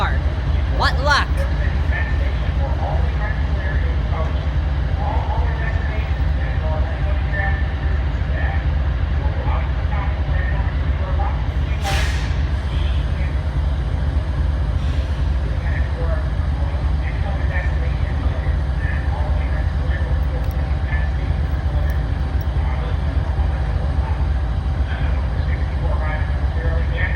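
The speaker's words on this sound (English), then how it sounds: "Amtrak eastbound, train number 64." Amtrak eastbound passenger train number 64 passes, a continuous loud rumble with scattered clanks and one sharp bang, with voices in the background throughout.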